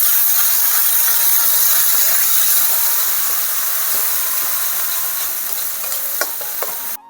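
Onion paste, turmeric and chili powder sizzling loudly in overheated oil, a dense, steady hiss with occasional crackles and stirring scrapes, close and continuous, with no talk.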